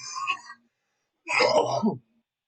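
A couple of harsh, throaty coughing bursts, close and fairly loud, separated by a short silence.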